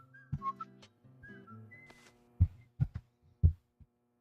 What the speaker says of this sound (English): It was doing the whistle.